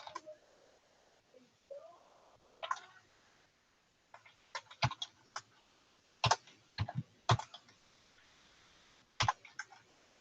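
Sparse keystrokes on a computer keyboard click in irregular short bursts, with single taps and quick clusters separated by pauses in a quiet room.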